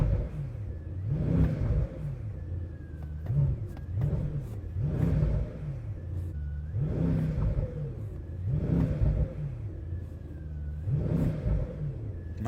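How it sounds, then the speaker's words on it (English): A 1000-horsepower Brabus Rocket GT1000 revs hard while parked, rising to its 4000 RPM limit again and again in about five loud, rhythmic surges, with turbo whistle and a deep rumble between the pulls. "You also hear the turbo spoon and the engine revving all the way up to the rev limit of 4000 RPM."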